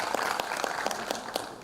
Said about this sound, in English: A round of applause for all of our esteemed panelists